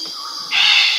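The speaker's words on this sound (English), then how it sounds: "The Dracula parrot." A Dracula parrot gives a harsh, drawn-out raspy call that grows louder and more strident halfway through, sounding close and alone.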